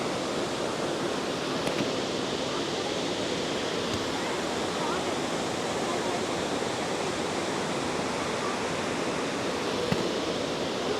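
Devkund Waterfall in Mayurbhanj rushing as a dense, steady roar of falling water, broadband and unbroken, filling the whole scene at an even level without pauses.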